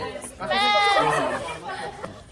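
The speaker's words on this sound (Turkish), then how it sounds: "Böyle keçi olur." A goat bleats loudly and close at a zoo, one long wavering cry lasting about a second, with people chatting nearby.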